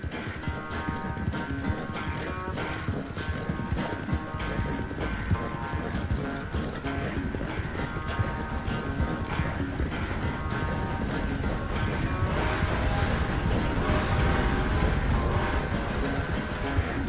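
A horse gallops hard during a race in Red Dead Redemption 2, its hooves pounding in a fast, steady clip-clop that stays loud and close throughout, layered over dense game music.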